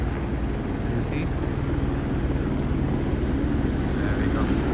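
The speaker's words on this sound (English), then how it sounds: "Oh, there you go, the helicopter is coming up now." A helicopter flies overhead in Skagway, Alaska, with a loud, low, pulsing rotor thrum that holds steady and close from start to finish.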